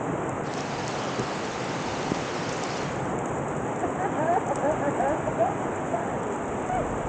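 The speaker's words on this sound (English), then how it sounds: "Surprisingly cold rain." Steady rain falling outdoors in Kigali, Rwanda, a dense even hiss of drops with no break, close around the listener and moderately loud.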